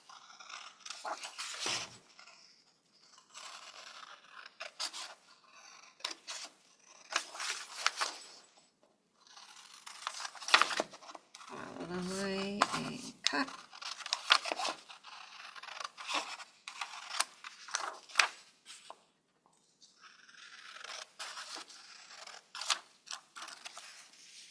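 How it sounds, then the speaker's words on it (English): Scissors snip through paper in a series of short crisp cuts with brief pauses between, close and fairly quiet, with a longer rustling scrape midway as the paper shifts. "first let's cut it out close to the corner"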